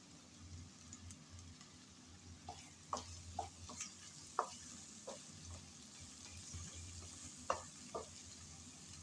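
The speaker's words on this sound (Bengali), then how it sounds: "কিছুক্ষণ সময় নিয়ে মশলা ভালোভাবে কষিয়ে নিলাম।" Spice masala fries quietly in a pan, with soft sizzling and a scatter of light scraping taps as it is stirred, fairly faint and without speech.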